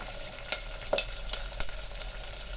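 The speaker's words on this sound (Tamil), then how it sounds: "இப்போ கருவேப்பிலை சேர்த்துக்கலாம். இது நல்லா ஃப்ரை ஆகணும்." Curry leaves and onions frying in hot oil for a Tirunelveli-style kara kuzhambu give a steady sizzle, broken by a few sharp crackles and pops as the leaves hit the oil, with no talking.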